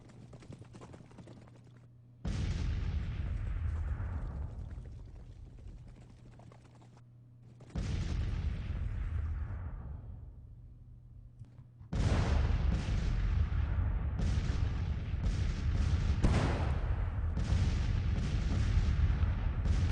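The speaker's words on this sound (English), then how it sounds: "So our guns are firing away here. 6-pounders." Six-pounder Civil War cannons boom in a battle video game, a few heavy blasts spaced seconds apart, each with a long rumbling tail, followed by several overlapping shots in quick succession.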